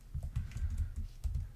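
Fingers typing on a computer keyboard while code is entered, a quick run of soft, close clicks in an uneven rhythm with no talking.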